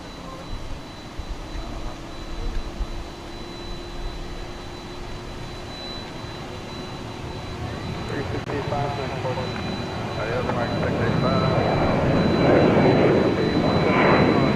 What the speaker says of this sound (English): And then there's an A300, which is about to come over here